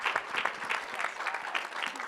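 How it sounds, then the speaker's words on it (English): An audience applauds panelists at a bra fitting panel event: steady, dense clapping from many hands, fairly close and even in loudness throughout, with no talking over it. "Can we give a round of applause for our awesome panelists,"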